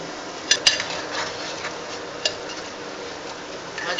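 Mutton keema fry with garam masala is stirred in a pan, giving faint, continuous soft scraping with a couple of sharp metallic clinks near the start and another a bit later.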